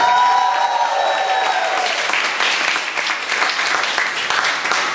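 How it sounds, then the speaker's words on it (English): Loud, dense audience applause at a literary event, a continuous roar of many hands clapping that holds steady throughout, with faint tonal feedback fading early on. "Round of applause."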